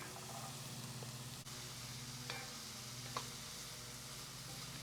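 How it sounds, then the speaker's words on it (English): Onions, celery and carrots sautéing in olive oil produce a faint, even sizzle with a couple of light utensil taps, over a steady low hum and no talking. "I'm going to start by heating up a little bit of olive oil and sautéing the onions, the celery, and the carrots."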